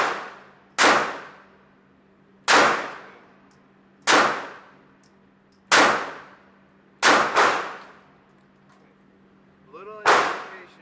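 Shots at an outdoor shooting range land on steel targets, giving sharp, loud clangs that ring out and decay, spaced at irregular intervals over a low steady hum, with faint talk in the background.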